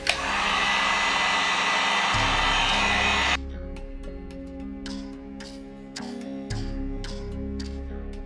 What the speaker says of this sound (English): I'm just going to hit it with the heat gun on low for a second.